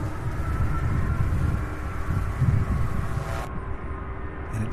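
MD-11 jet aircraft departing Louisville International Airport, a broad distant engine roar and rumble that swells and fades gradually, heard outdoors with faint wind and no talk.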